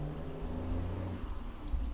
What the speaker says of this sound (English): there's a truck ruining my sound